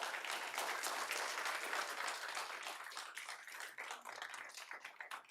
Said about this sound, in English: All right, sorry, we don't allow clapping